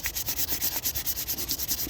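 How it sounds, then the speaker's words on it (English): Wood being hand-sanded to work out scratches, a steady back-and-forth rasp of abrasive strokes at a quick, even rhythm, close and clear with no talking. "I had to sand it going this way"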